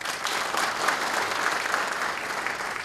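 A crowd claps steadily, a dense, even wash of applause that holds at one level throughout.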